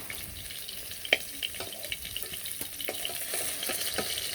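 Fish frying in oil makes a soft, continuous sizzle with a few sharp clicks and light taps scattered through it, fairly quiet and with no voices.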